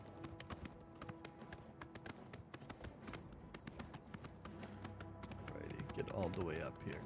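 Horse hooves gallop in a steady rapid clip-clop in Oblivion Remastered, a paint horse running along a road, with a voice talking over the hoofbeats and music underneath.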